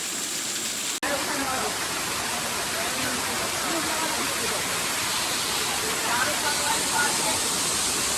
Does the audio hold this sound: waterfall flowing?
yes